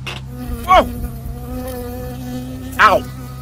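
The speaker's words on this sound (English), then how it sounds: "I got stung by a bee." A bee in the video game Firewatch, two loud close buzzing passes a couple of seconds apart over a low steady background hum, with no talk.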